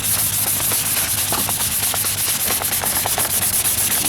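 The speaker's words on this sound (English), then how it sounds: "now I'm just gonna sand her down. I'm using a 500 grit sandpaper" Hand sanding with 500 grit sandpaper over Bondo glazing putty on the driver's side wheel arch repair of a 1998 Ford Ranger, a loud, close, rhythmic rasping of rapid back-and-forth strokes.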